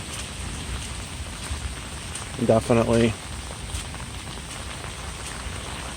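Heavy rain falls steadily around a garage drainage system as a dense, continuous hiss. A voice speaks briefly partway through.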